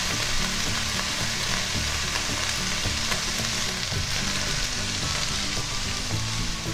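Shrimp chilli being stirred in a hot pan with soy sauce and red chili sauce, a steady dense sizzle and frying crackle with scraping stir strokes throughout, close and continuous.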